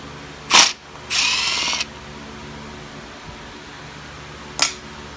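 Power tool in short bursts while studs are removed from an SR20DET engine: a brief whir, a sustained high whine of about a second, then another short burst, loud and close over a quiet hum.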